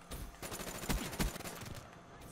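Quiet rapid gunfire from the Black Ops 3 video game, a few sharp shot bursts amid low background game noise, heard faintly at a distance.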